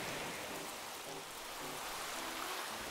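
Steady rain in the video game Animal Crossing: New Horizons, a constant soft hiss of falling drops with no other sounds.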